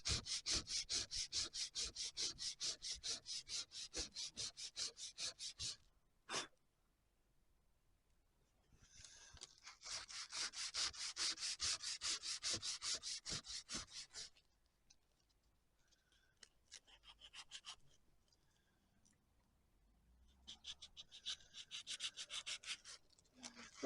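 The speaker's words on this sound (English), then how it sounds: "got a rougher sandpaper just to get it down" Rough sandpaper rubbed by hand on a Mazda, fast rhythmic back-and-forth scratching strokes in three bursts separated by quiet pauses, fairly faint and without talk.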